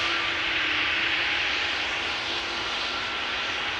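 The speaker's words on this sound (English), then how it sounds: "this is the A321neo that is coming in from, what was it? Montreal" Airbus A321neo airliner arriving at Amsterdam Schiphol Airport, a steady broad engine roar holding at constant loudness, fairly close, with no voices.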